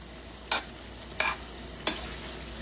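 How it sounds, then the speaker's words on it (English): A spoon scrapes through homemade spaghetti sauce in a pan three times at an even pace, each stir a short, bright swish over a faint, low bubbling simmer. "I'm going to let it sit here and simmer a little bit."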